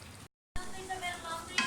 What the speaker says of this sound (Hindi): फ़िश हमारी भी जो है वो अच्छी तरह से भुन गई है।